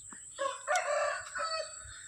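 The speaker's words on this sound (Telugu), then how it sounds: "చూడండి కోడి, చూడండి ఫ్రెండ్స్, కోళ్ళు ఎన్ని ఉన్నాయో." A farm rooster crows once, loud and near, among chickens, with a short cluck before the drawn-out call.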